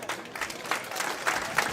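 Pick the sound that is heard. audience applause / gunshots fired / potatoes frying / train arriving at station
audience applause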